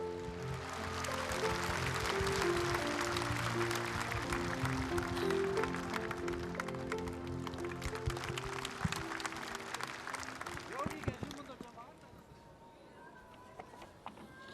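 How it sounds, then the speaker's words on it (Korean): Sustained applause from a large audience at a memorial service for former President Roh Moo-hyun, loud and steady for about ten seconds before fading into scattered claps and room noise. "뜨거운 박수로 맞아주시기 바랍니다."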